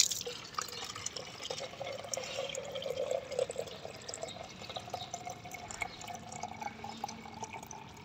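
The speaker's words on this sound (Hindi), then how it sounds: "जी पानी भी हमने भर लिया" Water runs into a container, a faint, steady trickle with small drips and splashes continuing for several seconds, with no talk over it.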